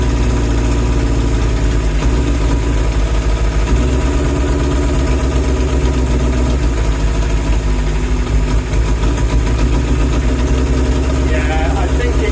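A Suzuki Katana motorcycle engine running after a carburetor draw-through, loud steady idle rumble with a rough, pulsing low-end throb that continues without a break.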